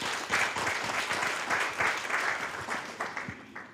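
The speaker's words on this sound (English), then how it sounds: "A round of applause, please." An audience at a research dissemination event in Kilifi breaks into steady, dense applause, many hands clapping together at a moderate distance with no voices over it.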